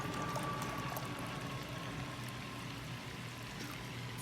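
Apple juice pours steadily into a 32-ounce container while a turkey brine is being made, giving a continuous liquid stream that runs throughout, close and fairly quiet, with no talking.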